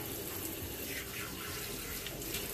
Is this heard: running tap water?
yes